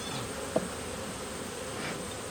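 Honey bees buzzing around an open hive during a fall inspection, a steady, faint hum close by with a small knock partway through and no talking.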